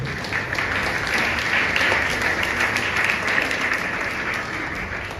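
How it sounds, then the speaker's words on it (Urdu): A church congregation claps during a sermon, a broad continuous roar of many hands that swells slightly in the middle and softens toward the end, filling the room without any speech over it. "میرے یسوع کے لیے تالیاں بجائیں"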